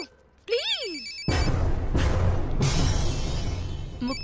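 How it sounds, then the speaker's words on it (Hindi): A telephone rings indoors with a warbling electronic tone, followed by louder whooshing and background noise; no one speaks over the ring itself. "मुक्ति कपूर का फोन।"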